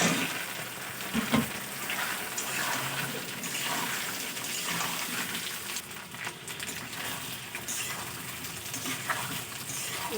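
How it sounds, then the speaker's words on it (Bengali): Washed, cut potatoes and green bananas added to hot oil with fried onion, chilli, ginger and garlic, producing a loud continuous close sizzle and watery hiss, with a sharper burst near the start. "এবারে দিয়ে দেবো কেটে ধুয়ে রাখা আলু আর কলা একসঙ্গে।"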